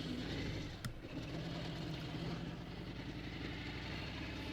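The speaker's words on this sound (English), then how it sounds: "You can kind of hear what the motorcycle sounds like as we're riding along." Engine and exhaust of a 2020 Harley-Davidson Road Glide motorcycle while riding, a steady low droning rumble with continuous wind noise, constant and fairly loud throughout, with a brief bump near the start.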